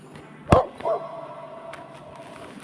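In a dog food advert, a dog gives one sharp, loud bark, then a shorter, softer yip, and the rest is quiet.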